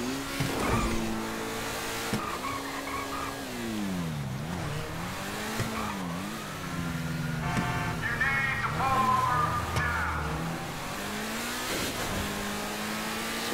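A car driven in GTA 5 revs and shifts through gears, its engine pitch rising and falling continuously with brief tire squeals, loud and close throughout.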